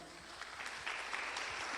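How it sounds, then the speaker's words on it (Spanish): A church congregation applauds, a short burst of steady crowd clapping at moderate distance, fairly even in level for under two seconds. "Dele un aplauso a la palabra del Señor."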